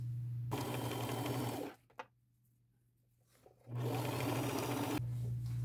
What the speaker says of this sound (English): sew them together with a zigzag stitch, my largest zigzag stitch, so that it makes a full circle like that